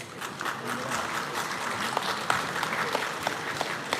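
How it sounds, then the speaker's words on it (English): An audience gives a round of applause for young achievers at a school awards event, with steady mid-distance clapping and a few sharper individual claps standing out. "Let us all encourage our young achievers with a huge round of applause."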